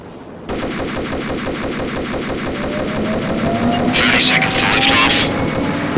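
Rapid sustained automatic gunfire aimed at thick radio-mast support cables in the video game Max Payne, a dense unbroken stream of shots that swells slightly louder toward the end over a rising mechanical whine.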